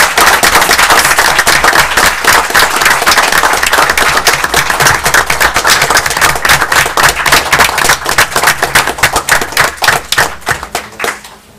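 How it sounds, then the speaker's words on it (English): A loud, close round of applause at a council meeting, sharp individual hand claps forming a dense steady patter that thins out toward the end. "I'd like you just to welcome me and just offer, you know, a round of applause for what they did."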